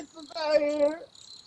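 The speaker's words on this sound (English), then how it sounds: "Crickets!" A short burst of cricket chirping from a soundboard effect, a trilling insect tone heard briefly and fairly loud.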